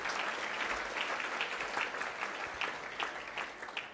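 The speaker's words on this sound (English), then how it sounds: "A round of applause for Jack and Becky." Audience applause for award presenters at a Victorian school sports awards ceremony; steady, moderately distant clapping from a crowd that continues evenly throughout without voices over it.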